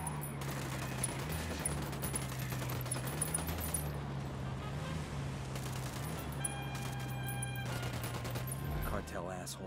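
Gunfire in the Tom Clancy's Ghost Recon Wildlands video game against cartel enemies, rapid automatic bursts and repeated shots crackling over a steady low game hum, with a voice briefly speaking.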